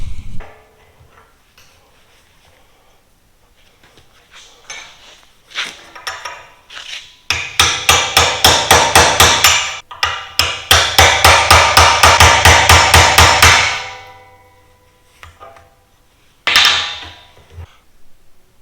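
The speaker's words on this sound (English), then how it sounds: "So we're going to see if we can smack that seam off" A hammer strikes metal to knock a weld seam off a steel trailer jack in a workshop, loud and close. Scattered taps give way to fast rhythmic bursts of ringing blows, then it falls quiet, ending on one last hit.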